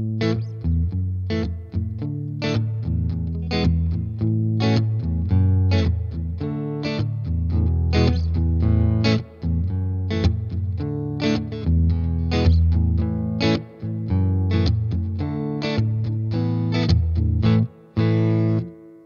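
A Fender American Ultra Telecaster on its neck pickup plays chords through a Super Overdrive pedal, a thick, gritty distorted tone ringing continuously with only brief gaps between phrases.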